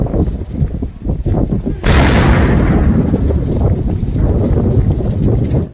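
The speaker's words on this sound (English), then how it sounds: "all of a sudden you hear cannon fire" A ceremonial cannon salute fires outdoors near Stockholm City Hall on Kungsholmen: one sudden, loud boom followed by a long rumbling decay, heard over constant wind noise with no talk.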